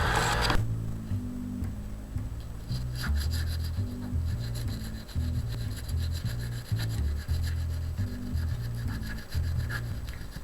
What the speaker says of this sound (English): after a little bit of filing and sanding with this 220-bit paper, got a pretty decent polish on there